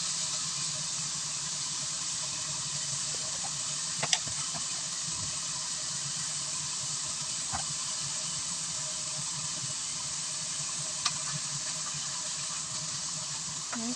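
Onion, shallot, garlic and chili sizzle in hot oil while sautéing for a pumpkin and minced pork dish, a steady close hiss of frying with a few faint clinks of a utensil.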